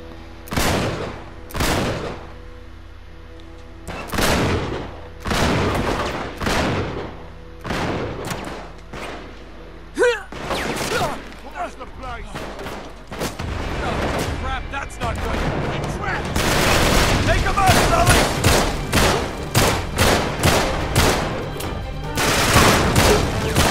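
Heavy gunfire from Uncharted 3: Drake's Deception Remastered, with dense bursts of shots and fusillades that build to near-continuous firing in the second half, loud and close, with a voice speaking in between.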